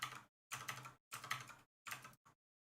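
Bursts of clattering keystrokes on a computer keyboard, five quick clusters separated by short silences, close and fairly quiet.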